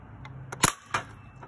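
Mossberg M950 airsoft shotgun cocked and fired at a trash can target, a couple of short sharp mechanical snaps and a crisp pop heard close and alone against quiet.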